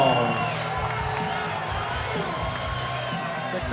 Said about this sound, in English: The crowd's really enjoying Willie Smalls, your winner, now with a record of 3-1